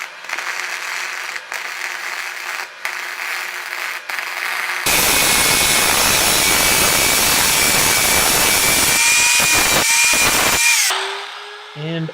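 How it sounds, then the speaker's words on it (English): Welding filler rod into the corners of a metal TV or monitor stand, a loud close hissing crackle that starts abruptly after a few quiet clanks and holds steady for several seconds before cutting off. "I just clamp it in place, and then I'm going to weld in there to fill up those corners."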